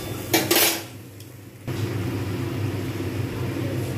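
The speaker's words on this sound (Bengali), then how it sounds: "এইবারে আমি কিন্তু ঢাকনা দিয়ে দেবো।" A metal lid clatters onto a pan of pabda fish cooking in spices, two quick bright clanks near the start, then a steady low simmer and hiss from the covered pan.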